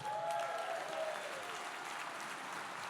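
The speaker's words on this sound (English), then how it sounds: "can we give a round of applause" Sustained round of applause from gala guests during a charity auction, even and moderately loud throughout the three seconds, with no talk over it.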